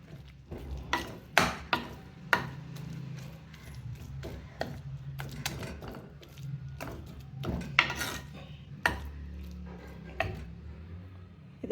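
Cooked pumpkin being mashed in a pot for pachadi, a Kerala sadya dish, with repeated sharp knocks and soft squishy scraping in an uneven rhythm, close and fairly loud, with no voices.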